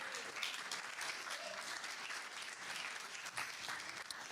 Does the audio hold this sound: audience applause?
yes